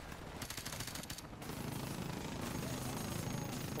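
Automatic gunfire and explosions from a helicopter assault in the Call of Duty 4: Modern Warfare Remastered campaign, a dense continuous roar of rapid shots and blasts that grows louder partway through, with no talking over it.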